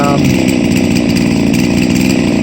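A chainsaw engine runs loud and close at high revs, a steady buzzing drone throughout.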